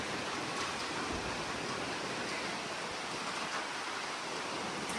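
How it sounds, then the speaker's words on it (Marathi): Steady, continuous rain falls outside during the monsoon in Mumbai, a dense, even hiss that holds at the same level throughout with no voices. "आता लगातार पाऊस पडते बाहेर, म्हणून आपण घरामध्ये काम केलं."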